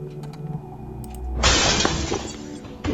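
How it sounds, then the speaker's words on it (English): Glass shatters in a horror video game: a sudden loud crash at about the midpoint, followed by a bright, sustained spray of breaking fragments that carries on to the end. "Hear something in the dark and hear the shattering of glass."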